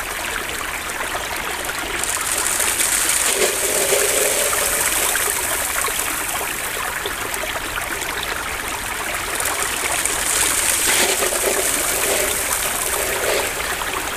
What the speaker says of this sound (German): Aber die Rinne zieht heute echt super durch an den Bach.